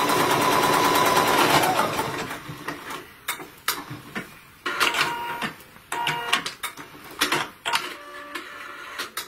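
An embroidery machine stitching twice around an applique piece, a rapid mechanical whir at first that breaks into irregular clusters of sharp, close clicking and tapping bursts with short gaps between them.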